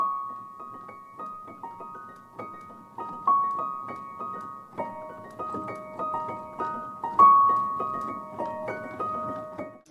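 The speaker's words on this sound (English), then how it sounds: "I kind of added it almost as like a little twinkle under the piano to kind of make it sound a little bit more interesting" A twinkling rhythmic layer from the Stratus piano library plays under a piano, with bright repeating high tones over soft plucked notes in a steady, gentle pattern, close and moderately quiet.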